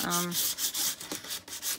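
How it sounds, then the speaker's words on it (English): Sandpaper rubbing over a painted Dollar Tree wood frame with 180-grit paper, a close, steady scratchy back-and-forth in short repeated strokes, preceded by a brief tonal hum at the start. "I'm going to do a little sanding"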